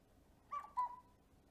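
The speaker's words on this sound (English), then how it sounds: "when they're dropped in rapid succession, you get the cuckoo" Bellows in a cuckoo clock, each lifted by a rod and dropped, sound through small whistles to give two short, soft cuckoo tones in quick succession, faint and close in a quiet room.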